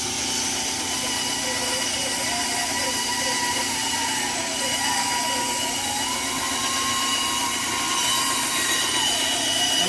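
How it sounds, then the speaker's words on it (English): Steady, loud whine of a bandsaw running continuously while cutting a sewing awl handle, with a wavering tone as the workpiece is rotated through the blade; no talk. "So we'll go over to the saw. Basically, I'm just using a bandsaw."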